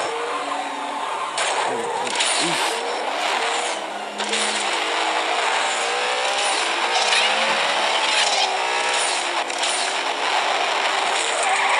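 Jet car racing in the mobile video game Jet Car Stunts: a steady, loud whining engine roar that holds continuously, with shifting tonal sweeps as the car accelerates and banks.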